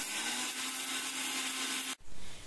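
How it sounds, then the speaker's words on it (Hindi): Mixer grinder jar grinding rice into flour, a loud steady whirring grind with a constant motor hum that cuts off abruptly near the end and then briefly restarts. "हमने इसे 2 ही मिनट तक मिक्सर जार में चलाया है"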